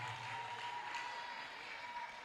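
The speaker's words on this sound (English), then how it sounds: "A round of applause for them," Audience applause at a live-streamed school counseling event, a steady wash of clapping throughout, fairly quiet and distant with no talk over it.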